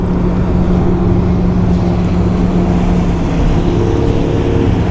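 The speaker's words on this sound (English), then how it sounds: "Here comes a jet ski." Jet ski passing on Lake Ida in Florida, a loud continuous engine drone with a steady tonal hum and no break across the few seconds.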